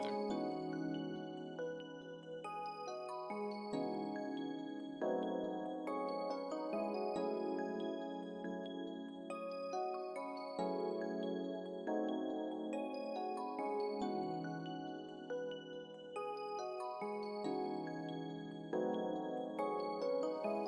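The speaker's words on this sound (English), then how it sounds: "here's the chord progression with all the bells together." Layered bell tones play a plugg-style beat chord progression, bright chiming chords repeating in a steady loop, loud and alone with no talking.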